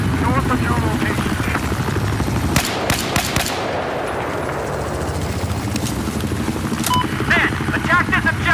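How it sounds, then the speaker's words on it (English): A helicopter in the video game Battlefield 4 thrums loudly and continuously, its rotor chop running under bursts of gunfire and sharp crackling explosions in the middle of the scene. "helicopter north of your location"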